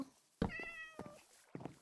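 Cats meowing in a Minecraft-style video game, two or three short, close, clear meows spaced across a brief quiet stretch.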